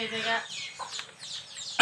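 A native hen clucks in short, scattered bursts close by, with some human voice mixed in and a sharp louder sound at the end.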